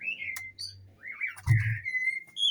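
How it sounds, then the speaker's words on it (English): A bird calls outdoors with a series of high whistled notes, some sliding and some steady, fairly close, over a low background hum. "You scared the hell out of me, you stupid bird."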